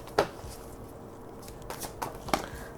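Tarot cards being shuffled and drawn, a few brief crisp slaps and riffles spaced apart, close and fairly quiet over a low background hum.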